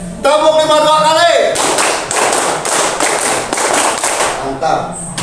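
A group of people claps a five-beat pattern twice in a classroom, sharp near claps in a quick run after a brief spoken instruction at the start.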